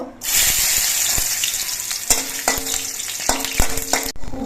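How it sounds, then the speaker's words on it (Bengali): Cashews and raisins frying in hot mustard oil, a loud close hiss that starts abruptly and continues steadily, joined by scraping stirs and light taps from a spatula before cutting off. "তেলটা গরম হয়ে যাওয়ার পর এর মধ্যে কাজু আর কিশমিশগুলো খুব হালকা করে ভেজে নেব"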